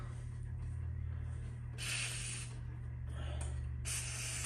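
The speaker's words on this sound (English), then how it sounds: "Just getting this sprayed in the track." Spray lubricant hisses into the seat track of a John Deere X320 lawn tractor in two distinct bursts, each about a second long, close and steady over a low constant hum.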